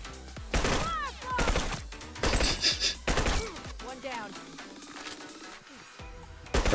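Video-game gunfire fills a 2v2 tournament match in repeated loud bursts of rapid shots separated by short gaps, while synthetic sweeping game effects play underneath.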